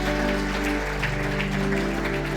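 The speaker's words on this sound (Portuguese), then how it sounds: "Dê uma salva de palmas a Ele" A church congregation claps along during a worship service, a dense, sustained wash of applause layered over steady instrumental music, with no break for the whole stretch.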